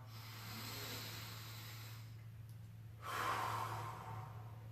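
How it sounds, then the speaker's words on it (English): A person breathes during a hip-opening stretch, with a long, airy inhale through the nose followed by a louder, breathy exhale through the mouth, close and without talking over a low steady hum. "In through our nose, out through our mouth."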